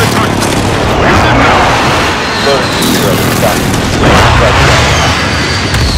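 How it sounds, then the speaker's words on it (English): Precision airstrike explosions go off in Call of Duty: Modern Warfare, a dense, continuous roar of booms and gunfire near and loud throughout, with radio chatter over it. "Be advised, friendly precision airstrike inbound."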